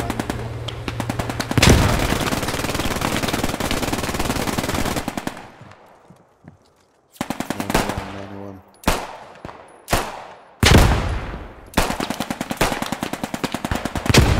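Loud automatic gunfire in the war game Post Scriptum: long continuous bursts, a pause, then several short separate volleys, close and punchy.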